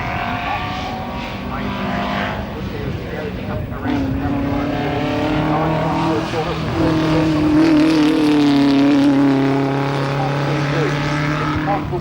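A Mini touring car on a hillclimb course at the Collingrove Australian Hillclimb Championships in 1994, its engine revving hard and rising through the gears, loud and close, with a commentator talking over it.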